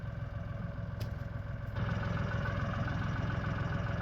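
A farm tractor idles steadily nearby in a low, even rumble, with a slight shift in tone partway through and no voices over it.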